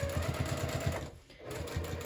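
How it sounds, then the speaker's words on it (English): A sewing machine stitching a handbag seam at a half-inch seam allowance, a close, rapid needle chatter running continuously with a brief dip midway, and no one speaking. "now we're gonna go ahead and get this sewed on"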